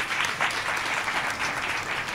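A church congregation claps together during a Sunday service, a dense, steady wash of hand claps filling the room without pause.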